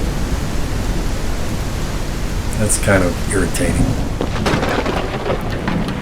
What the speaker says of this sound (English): it's pouring rain and my rain catcher doesn't have any water in it.